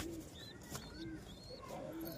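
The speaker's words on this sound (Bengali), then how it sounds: "দেশি কবুতরের বাচ্চাগুলো" Local Giribaz pigeons coo softly in a low repeated murmur, with faint bird chirps above, close by and moderately quiet without talk.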